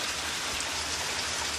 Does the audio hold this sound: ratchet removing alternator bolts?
no